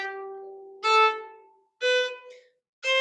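Violin playing a beginner exercise of short, detached staccato quarter notes, three or four separate clear bowed notes with silence between them, close and fairly soft.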